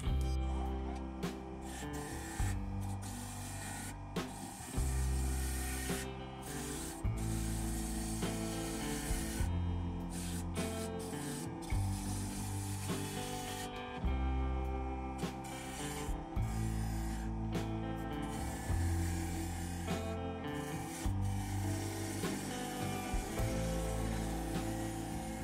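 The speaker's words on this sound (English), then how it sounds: "I'm going to be using my 3/8 bowl gouge, at least to start, and I've got the speed set to 2000." A wood lathe spinning at 2000 rpm while a 3/8 bowl gouge cuts a wooden nut cracker, a continuous close rasping and scraping with rhythmic bursts as the tool passes, no talking.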